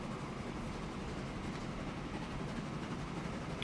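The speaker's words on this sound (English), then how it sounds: "So that train will now go back." A train in the Transport Fever 2 game rolls along steadily, its broad, continuous rumble with a faint clatter holding at a constant level throughout, with no talk over it.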